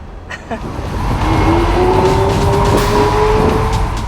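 A 2012 Lamborghini Aventador engine pulls hard under acceleration, a loud, close, steady roar rising in pitch over a few seconds with a faint tire squeal mixed in.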